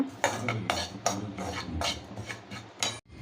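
Spoon or spatula repeatedly scraping and stirring chilli masala in a hot pan, a series of sharp metallic scrapes and knocks at an uneven rhythm, close and fairly quiet, with no voices.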